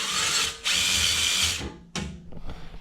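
A drill with a masonry bit bores into concrete for a Tapcon screw in a garage floor, two close loud whirring bursts with a short pause and winding down between them.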